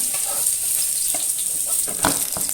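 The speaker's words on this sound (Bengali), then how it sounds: "হালকা করে মাছটা একটু লাল লাল করে আমি ভেজে নিয়েছি" Katla fish frying in oil gives a bright, steady sizzle up close, with a few soft clinks and stirring sounds, no talking.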